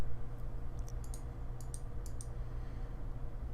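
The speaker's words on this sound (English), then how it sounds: "Key press." Key presses on a Logitech G910 mechanical keyboard, a quick irregular run of crisp clicks up close over a low steady hum.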